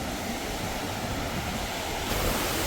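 A large waterfall and river in a mountain valley of Harshil, Uttarakhand, give off a dense, continuous rush of water that is loud and steady throughout, with no voices.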